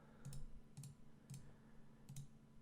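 Quiet mouse clicks selecting lines one after another at a computer, four soft, evenly spaced clicks over a low, steady background hum.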